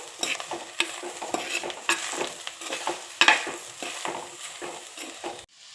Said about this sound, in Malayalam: ആവശ്യത്തിനുള്ള ഉപ്പും ചേർത്ത് കൊടുത്തിട്ട് നന്നായിട്ട് മിക്സ് ചെയ്തെടുക്കണം കേട്ടോ